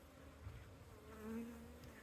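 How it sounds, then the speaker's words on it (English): Irritated honey bees buzz while being installed into a new beehive, a soft, close droning hum that rises and wavers in pitch. "we just irritated some bees"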